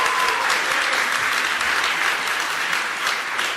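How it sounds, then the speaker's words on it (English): A large crowd at an Apple Developer Academy graduation ceremony in Detroit applauds loudly and continuously, a dense wash of clapping filling the whole moment. "That's applause."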